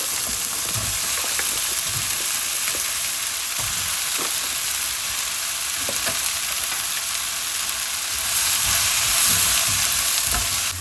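Sliced mushrooms and onion sizzle steadily in a pan for chicken fajitas, a broad continuous hiss with occasional scrapes of stirring, swelling slightly louder near the end; no one speaks.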